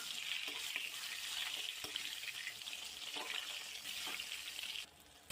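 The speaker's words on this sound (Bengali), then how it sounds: "বেগুনগুলো ভালো করে ভেজে নেব।" Eggplant slices frying in hot oil in a wok, giving a steady, bright crackling sizzle with a few soft pops, close and continuous until it drops away near the end.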